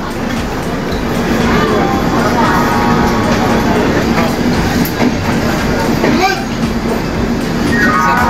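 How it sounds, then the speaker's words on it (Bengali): The Kamrup Express pulls away from Howrah after a chain-pulling halt, its horn sounding as the train sets off; steady rolling carriage rumble and clatter fill the scene, with voices and brief tonal blasts over it. "চেন পুলিং হয়েছে, তাই আবার ট্রেন হর্ন দিয়ে এতবার 3বার হর্ন দিয়ে যাত্রা শুরু করলো।"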